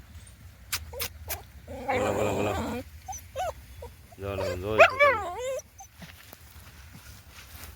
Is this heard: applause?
no